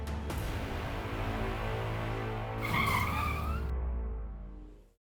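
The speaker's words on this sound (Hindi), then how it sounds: "सर, गाड़ी क्यों रोक दी?" A car slows with a rising tyre squeal as it skids and brakes to a halt, loud and close over a rumbling engine, then cuts to silence.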